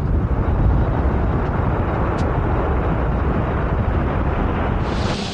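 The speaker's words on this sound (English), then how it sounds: "As the plane departed for its final flight from Paris to New York, thousands came to say farewell." A Concorde supersonic passenger jet departs Paris on its final flight to New York, a continuous loud, deep roar of jet engines that holds steady for several seconds.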